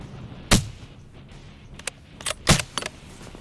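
Sharp rifle reports crack out during a pronghorn hunt in a Montana blizzard: two loud shots about two seconds apart, with fainter cracks and clatter between and after them.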